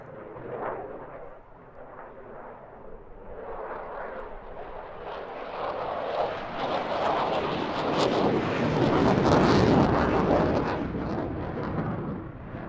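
Military jet aircraft armed with a 27mm Mauser cannon flying a display at the 2025 Eastbourne International Airshow: a broad engine roar builds steadily from moderate to loud and peaks near the end of the pass.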